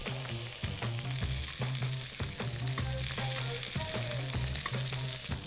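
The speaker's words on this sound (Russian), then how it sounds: "И вино у нас уже закипает." Wine boils in a pan as the base of a cherry sauce. It gives a steady, close bubbling sizzle throughout, with no talking.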